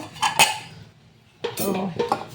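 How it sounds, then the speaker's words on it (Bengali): Cooked rice is scooped from a large pot into a smaller one, giving short bursts of metal utensils clinking and scraping against the pots, close and fairly quiet, with a pause in the middle. "ছোটো হাঁড়িতে ভাতগুলো এক জায়গায় করে নেব"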